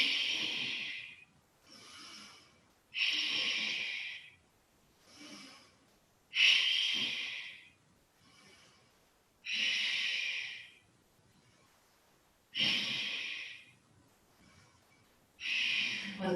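Sharp, forceful breaths pushed out through the nose during a yoga breathing exercise, repeating roughly every three seconds as bursts of air alone and close, with softer inhalations between them.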